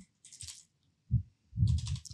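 Typing on a computer keyboard while entering a test name in a trading alert setup, heard as short soft bursts of key clicks separated by brief pauses, close and fairly quiet with no talking.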